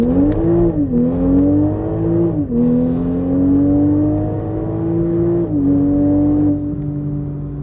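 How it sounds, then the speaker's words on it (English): Toyota Supra A90 at full throttle climbing through the gears, a loud, steady engine drone whose pitch rises, drops briefly at each of several quick upshifts, then climbs again, heard close with no talking. "I'm just going to go ahead and go through the gears here and just notice even at full throttle"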